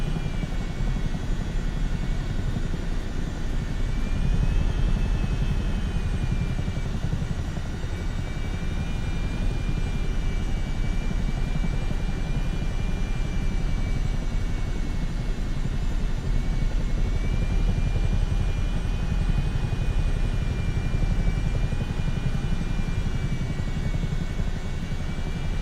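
A Chinook twin-rotor helicopter in the Microsoft Flight Simulator game drones with a steady, loud rotor and engine roar throughout, the pitch holding constant with a faint whine riding on top and no talk.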